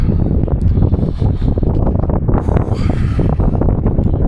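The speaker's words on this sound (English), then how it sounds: "I bet it's really windy on that bridge though. Very windy." Loud, steady wind roars and buffets the microphone on a bridge near the Arctic Circle, with a low rumble and no voices.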